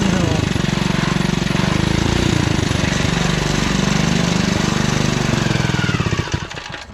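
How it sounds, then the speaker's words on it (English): The small motor of a REO Trikeabout trike running just off idle while riding, a loud, steady, rattling chug held close throughout before fading slightly at the end. "I need to give the motor a little bit more acceleration. It's just off idle right now."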